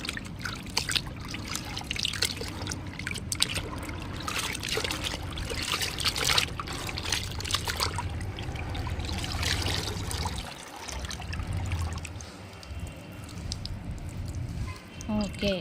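Water trickles and pours steadily while saree petticoats are washed by hand, a continuous close splashing flow with someone speaking over it.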